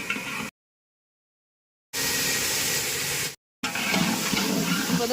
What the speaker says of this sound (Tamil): நல்லா எல்லாம் வந்து இப்போ கொழுப்பு வந்து வதக்குறாங்க